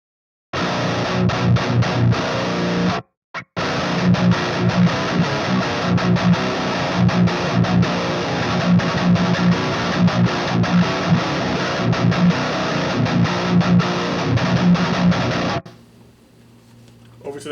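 Electric guitar through an Armored Amplification Sentinel amp with a Nebula overdrive, a loud, continuous distorted riff with a brief cut near the start, stopping to near silence at the end.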